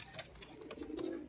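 Pigeon cooing, a single short low throaty coo rising in the second half over steady background noise, close and moderately loud.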